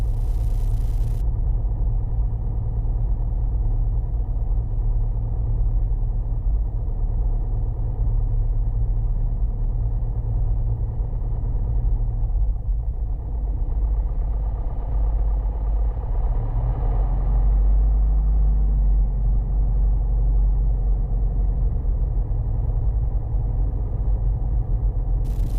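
An RV light aircraft engine drones steadily and loudly from close range while taxiing toward runway 21 at Madison, its low, even hum swelling slightly midway and holding without talk.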